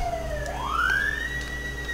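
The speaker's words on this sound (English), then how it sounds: "Police car going by" A police car siren in Gabriel Knight 3 wails past in one long, loud sweep that dips and then climbs to a high held tone.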